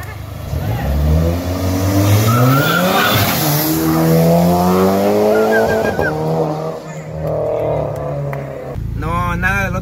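A 300 hp Spirit SRT4 races and revs hard, its engine note climbing and falling in loud sweeping pulls, with tire skids and squeals, heard up close for the whole stretch.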